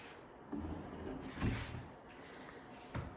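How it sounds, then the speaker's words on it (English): Soft-close cabinet drawers in a renovated kitchen slide shut with muted wooden thumps and gentle dampened clicks, three or four soft closings spread over a few seconds at close range, quiet overall. "all these drawers are all nice soft closed drawers"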